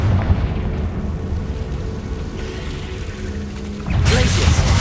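A Confringo blasting spell goes off in Hogwarts Legacy combat against a dense, rumbling game soundscape. A heavier explosive burst swells in near the end.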